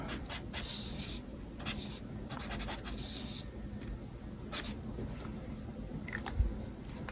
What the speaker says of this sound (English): Let's see if I can't draw a character in here.